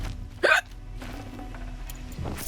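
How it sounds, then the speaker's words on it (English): A single sharp hiccup rings out clearly early on, set against quiet video game background sound from Horizon Zero Dawn. "I hate hiccups."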